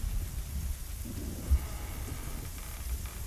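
A lightning storm in the adventure game Chaos on Deponia gives steady loud rain and a low rolling thunder rumble, with one brief dull thump partway through and no voices.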